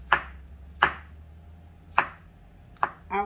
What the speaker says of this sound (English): I'm just going to cut my mushrooms up fairly large